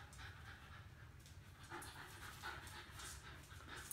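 Dogs playing and panting steadily at a distance, the quick breathy rhythm running throughout under faint background noise.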